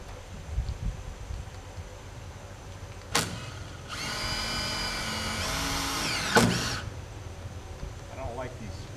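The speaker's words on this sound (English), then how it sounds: "Kind of twist the screw in a little bit to get it started." Cordless drill driving a screw into oak siding, heard as one steady whirring run of about two and a half seconds between short mechanical bursts, close by, with faint rustling around it.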